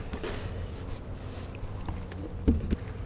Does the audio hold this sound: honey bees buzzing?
yes